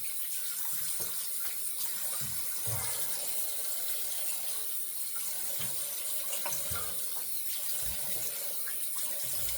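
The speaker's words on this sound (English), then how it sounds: "All right, so let's rinse." Tap water runs steadily into a sink while someone rinses shaving lather off their face, a continuous close splashing rush broken by irregular cupped-hand splashes and drips.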